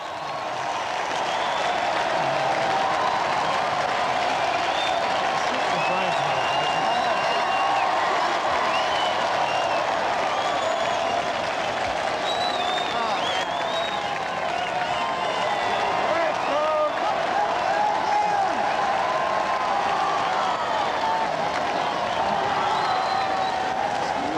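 A large crowd outside Buckingham Palace roars and applauds a royal couple's balcony appearance, a sustained dense wash of cheering and clapping heard from a distance, with a voice speaking over it.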